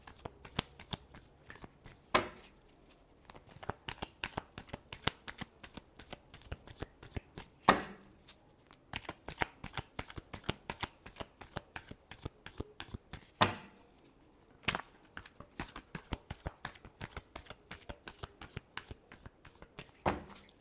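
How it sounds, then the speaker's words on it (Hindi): Tarot cards being shuffled by hand in a long steady run of rapid riffling flicks, close and crisp, with a few brief pauses and heavier slaps between bursts. "Last shuffle."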